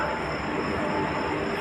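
The Eranad Express hauled by a WP4 locomotive arrives at a Kerala station, a steady rumbling roar of rail cars and wheels rolling past up close with a faint high whine above, no talk heard.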